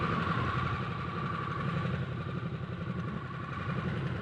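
A 2022 Harley-Davidson Nightster 975 motorcycle engine runs loud and close with a steady, rough throb and a mechanical clatter, the tone barely changing over a few seconds.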